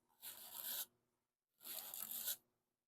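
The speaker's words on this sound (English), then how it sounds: "I can take the utility knife blade and scrape on it and get the, some of those ridges off there" A utility knife blade scrapes ridges off curing Duraglas filler in two distinct rasping strokes, each just under a second long, close and crisp with a pause between them.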